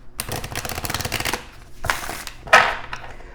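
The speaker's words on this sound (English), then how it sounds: "let's go ahead and get a shuffle in here" Tarot and oracle cards shuffled by hand, rapid riffling bursts followed by a pause and a second shorter shuffle ending with a sharp snap, close and alone.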